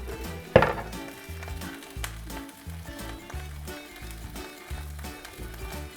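Italian sausage searing in a hot pan, a soft continuous sizzle running under clinks and knocks of utensils against the cookware, with one sharp clatter near the start.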